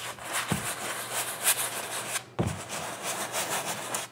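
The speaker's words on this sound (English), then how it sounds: "So I'm doing that crisscross motion, then you can also really scrub it in there." Brush scrubbing oil paint in a crisscross motion over contact paper, a quiet, close, continuous rubbing and scratching with repeated back-and-forth strokes and two brief pauses, with no talking.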